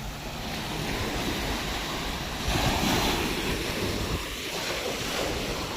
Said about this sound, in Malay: Ini lah pantai Batu Feringgi.